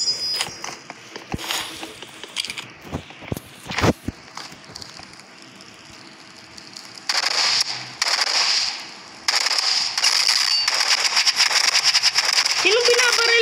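Flare gun shots go off in a video game. A few sharp cracks stand out early, among other scattered game noises, followed by louder sustained hissing bursts while voices talk.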